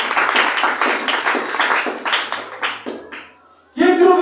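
Audience clapping at a youth conference: dense, loud applause for about three seconds that fades out, followed by a short silence and then music or sound starting up.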